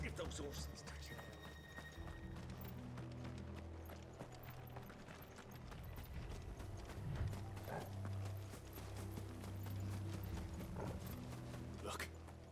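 Horse hooves clip-clop at a trot in Final Fantasy XVI, a steady rhythmic beat under low, droning game music, with the clatter growing more prominent midway; no one speaks.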